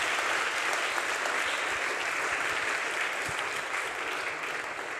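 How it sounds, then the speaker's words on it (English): Steady applause from an audience at an academic panel discussion, a dense, even patter of clapping that holds at a constant level throughout. "sorry for applause for Thierry"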